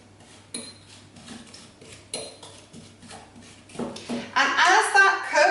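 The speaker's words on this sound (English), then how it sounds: "I'm just going to give that a little mix around" A spoon stirs rhubarb and strawberry in a pan, giving light clinks and scrapes under a person talking, then a louder stretch of stirring and sizzle near the end.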